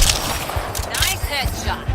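Gunfire from the sci-fi shooter Mass Effect Andromeda, rapid bursts of shots and impacts cracking across a busy combat mix with game voices talking.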